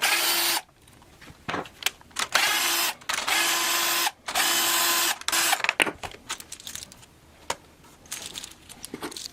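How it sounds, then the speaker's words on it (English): Small screws being backed out of the tuning machines on an inexpensive Glarry electric guitar, in bursts of whirring from a small powered driver separated by pauses and light clicks, close and fairly loud. "Gotta take these little screws here out."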